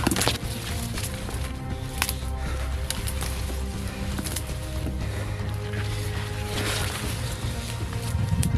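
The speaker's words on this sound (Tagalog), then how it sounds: "may narinig tayong motor, tol." A boat motor hums on open water, a steady low engine drone with wind and water noise over the whole stretch, no voices.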